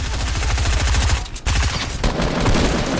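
Gunfire in the Fortnite video game, a loud rapid stream of shots firing in quick succession with a brief pause before another burst, dense and continuous throughout.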